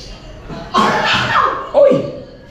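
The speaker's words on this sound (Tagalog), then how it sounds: "Uy! Ubo!" A person coughs twice in a home setting, two sharp, loud, close bursts about a second apart against a quiet background.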